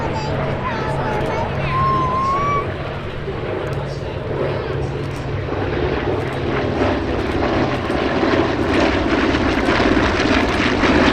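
A formation of WWII fighter planes passes overhead with a loud, sustained propeller-engine roar that swells slightly and persists, while a commentator talks over it.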